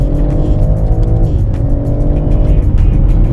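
A BMW M3 Touring's six-cylinder engine runs loud and close, a dense sustained drone that shifts pitch as it pulls through the revs, with no talking over it.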